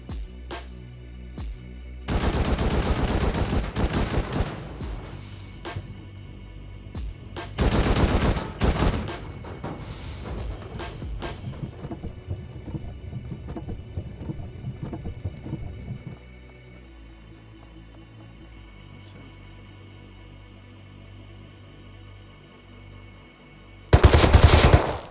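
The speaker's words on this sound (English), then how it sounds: "I went over with some explosive ammo." Explosive ammunition fired in the video game Rust at a decaying base on an iceberg: several loud, dense bursts of rapid gunfire separated by quieter stretches, with a final sharp burst at the end.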